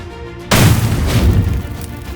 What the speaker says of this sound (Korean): 산발전소 우드펠리 폭발 신고 들어왔습니다.